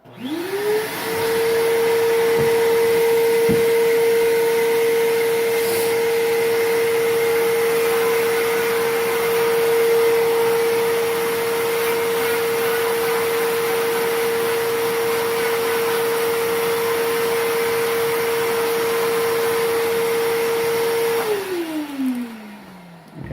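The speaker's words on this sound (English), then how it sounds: "I'm going to turn the vacuum cleaner on while I do this so I don't kick dust up everywhere" A vacuum cleaner runs steadily for about twenty seconds, a loud constant whine that spins up at the start and winds down near the end.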